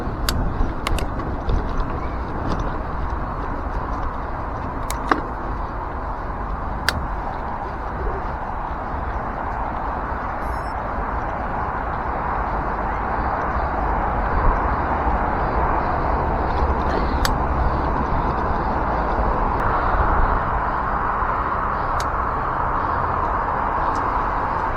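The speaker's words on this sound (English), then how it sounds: "we're going over the M5, which is always nice because it's always nice to see the traffic" Motorway traffic on the M5 passing below a bridge, heard as a steady, continuous broadband roar with no distinct individual vehicles, a few faint bird calls and sharp ticks on top.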